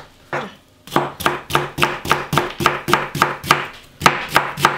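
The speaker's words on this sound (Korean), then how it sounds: "저는 이 무채 쓰는 선수라서 그냥 칼로 썰을게요" A kitchen knife slices radish into strips on a cutting board, with sharp, close chops in a steady quick rhythm, about a dozen strokes with a short pause near the end.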